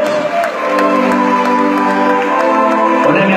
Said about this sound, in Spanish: dale un fuerte aplauso a la mente de Dios